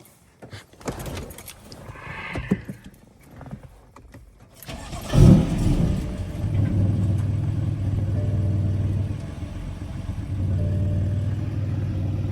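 A BMW M4 is heard first with door and key handling sounds, then its engine starts with a sharp burst and settles into a steady, fairly muted idle with no cold-start roar.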